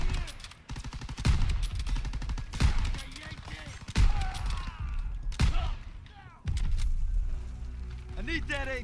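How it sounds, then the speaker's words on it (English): Rifle gunfire in the D-Day mission of Call of Duty WW2, a video game, with sharp, loud shots at irregular intervals over game battle noise and someone talking. "I missed two shots like that, and it's the slowest reloading weapon in the world."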